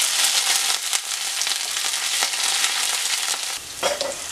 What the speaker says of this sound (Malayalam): അല്പം കറിവേപ്പിലയും കൂടെ ഇട്ട് മൂപ്പിച്ചെടുക്കാം